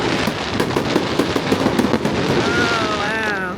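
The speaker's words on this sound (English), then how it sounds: "right after that, I got my own fireworks show." A fireworks display at a resort in Cabo San Lucas crackles and pops loudly in rapid irregular bursts, with whistling rising tones near the end.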